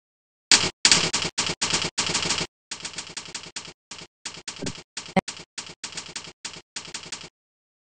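Fast bursts of keystrokes on a computer keyboard during a typing drill of the F, J and space keys, with close, loud clusters of clicks separated by short pauses.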